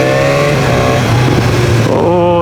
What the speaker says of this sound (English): Oh, that revs very nice.